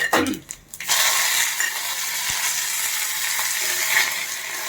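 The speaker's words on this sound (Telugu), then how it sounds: "ఒక ఎండుమిర్చి వేస్తున్నాను" Dried red chilli dropped into hot oil for Andhra gongura dal hits with a sharp crackle, then settles into a steady, bright sizzle that runs unbroken, with no talking.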